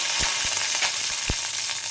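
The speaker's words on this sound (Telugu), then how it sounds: "మినపప్పు, ఆవాలు ఇవి కాస్త వేయించాలి" Urad dal, mustard seeds and dried red chillies fry in hot oil for an idli pulihora tempering, a dense, constant close sizzle with a few soft pops and spoon taps.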